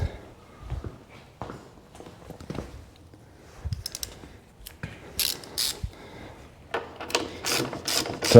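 Ratchet tightening the front wheel of a KLR 650 motorcycle during a tire change, quiet close clicking in short bursts that grow busier and sharper toward the end, with faint knocks between.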